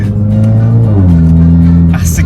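A remapped Mazda 2 Skyactiv 1500cc engine accelerating hard, a loud, close, steady drone whose pitch climbs, steps down, and builds again, with a brief crackle near the end.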